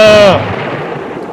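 In the Ao Oni horror game, a storm's thunder rolls as a loud, low rumble that fades over about a second, right after a short vocal cry.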